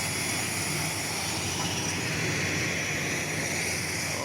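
Steady broadband engine roar of a Wings Air airplane taking off at Komodo Airport in Labuan Bajo, heard as a constant sustained drone at moderate distance.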